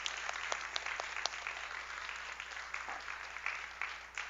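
A church congregation at a Sunday service in Kaohsiung claps in welcome for new members. The applause is a steady, fairly quiet patter of many hands with scattered sharper claps, lasting a few seconds with no speech over it.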